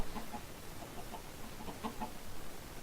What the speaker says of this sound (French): J'entends que des poules.